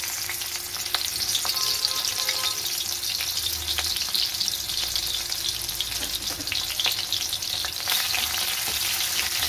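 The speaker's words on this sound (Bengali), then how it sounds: "এবার এটার মধ্যে আমি রসুন ফোড়ন দিয়ে দেবো।" Continuous crackling sizzle of garlic frying in hot oil, steady and close, with occasional sharper pops and light stirring scrapes.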